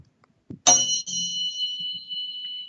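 A single bell-like 174 Hz tone, similar to a Tibetan singing bowl, is struck and rings on steadily, a clear sustained hum that slowly fades, following a couple of soft knocks.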